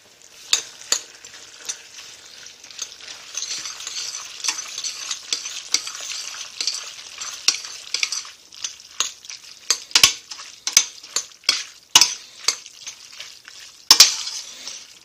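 Tomato sauce with basil sizzling in a pan as a spoon stirs it, a soft wet crackle under a series of scraping strokes and sharp clinks against the pan, irregular and close, without speech.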